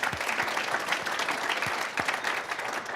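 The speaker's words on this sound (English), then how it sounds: "so give her a round of applause." Applause from a banquet audience seated at tables during a student life awards dinner, a broad continuous patter of many people clapping at moderate distance, steady for the whole stretch without speech.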